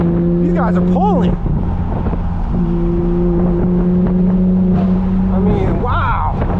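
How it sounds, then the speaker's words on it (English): Straight-piped BMW M4 F82 accelerating hard, a loud raw exhaust roar climbing through the revs with sharp shifts between pulls, heard from inside the car. "I'm giving this car all it's got,"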